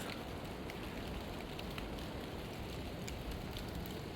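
Light rain patters softly and evenly in a forest, a faint continuous hiss with scattered drops and no voices.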